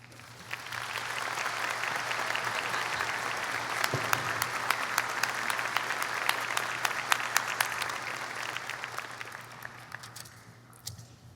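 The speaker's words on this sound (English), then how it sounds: "Please join me in a round of applause for them." Graduation ceremony audience applauding the platform party, a broad sustained wash of many hands clapping that swells, holds for several seconds with sharp individual claps poking through, then fades away.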